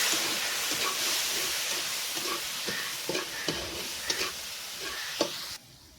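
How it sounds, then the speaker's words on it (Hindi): Seviyan being stirred with condensed milk in a hot pan, a steady hiss and sizzle with soft, irregular scraping strokes close by, ending abruptly in quiet. "ये मैं इसमें डालूंगी 7 से 8 चम्मच कंडेंस मिल्क डालूंगी और अब इसको अच्छी तरह से मिक्स कर दूंगी"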